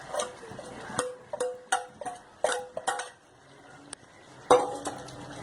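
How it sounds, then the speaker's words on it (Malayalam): A spoon scrapes and clanks around a pot of chicken curry mixed with roasted ground coconut paste, giving a series of close metallic knocks and scrapes in an uneven rhythm, with brief quiet gaps between strokes. "നന്നായിട്ട് ഇളക്കി കൊടുക്കുക."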